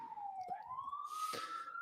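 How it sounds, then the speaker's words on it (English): A siren sweeps slowly upward in a smooth wail, faint and distant, with a couple of brief knocks and a burst of hiss over it. "You hear that siren?"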